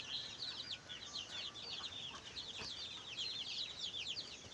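A large flock of young chicks cheeps continuously in dense, overlapping high peeps, close and steady throughout, with a few faint clucks and a brief wing flutter.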